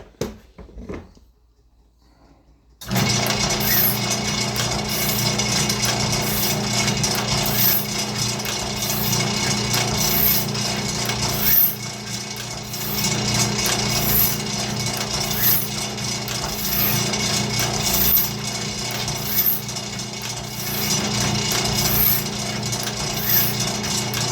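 Foley sharpener grinding a sawmill band blade, running steadily and loudly for over twenty seconds with a dense grinding hiss and a regular ticking rhythm, starting abruptly after a quiet moment.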